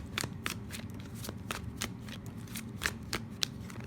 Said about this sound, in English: So bad at shuffling on camera.